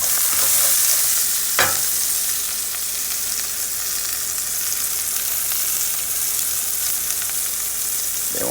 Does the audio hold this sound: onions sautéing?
yes